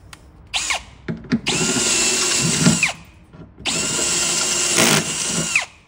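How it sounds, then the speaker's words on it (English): A power drill re-drills holes a bit larger in a metal transducer mount, running in two long, steady whining bursts, each winding down at the end, with short trigger blips between them and no talk. "So I'm going to re-drill all of those holes a little bit bigger."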